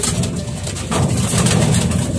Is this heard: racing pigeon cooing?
yes